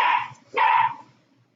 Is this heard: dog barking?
yes